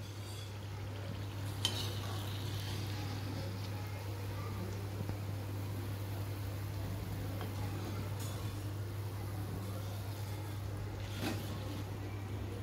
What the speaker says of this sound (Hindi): देखिए हमारे समोसे अब सिक गए हैं हम उनको ऑयल से बाहर निकालेंगे